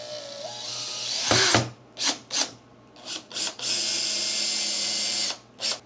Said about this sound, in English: I found a couple of screws laying around, and I will screw it right on in